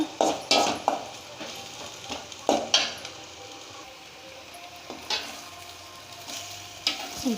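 Tomatoes and onions sautéing in a pan for tomato chutney, with a soft frying hiss under a run of loud, close spoon scrapes and clinks against the pan, no voices.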